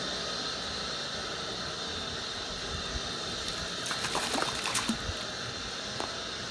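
Well water pours steadily into a swimming pool, a constant hissing trickle throughout, with a few brief splashy clatters near the middle, no voices.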